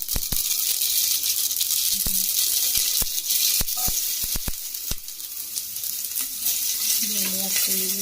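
Mustard seeds sizzling in hot oil while tempering for a cowpea curry, a steady bright frying hiss with scattered sharp pops and crackles throughout, close and fairly loud with no voice.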